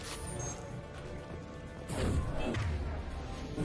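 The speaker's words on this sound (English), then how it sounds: "Oh, it's just a gunshot." A gunshot in the sci-fi shooter game Mass Effect 2 lands as a sudden crashing burst midway through a dense, continuous wash of combat noise and music.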